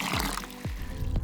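Water runs steadily from a roadside tap at a mountain water stop on a cycling route in the Alps, a continuous close pour with gurgling dips.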